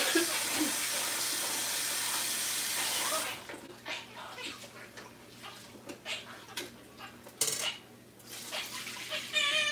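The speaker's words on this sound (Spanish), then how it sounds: "Lo voy a lavar rápidamente." Tap water runs steadily over four cups of plain white rice being washed in a sink, a continuous hiss at first, then broken by splashing, rinsing and clattering bursts as the grains are stirred by hand.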